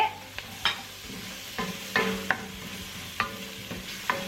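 Onions sauté for beef stroganoff while a utensil stirs them in the pan, giving a low continuous sizzle with sharp, irregular scraping knocks up close and no talking.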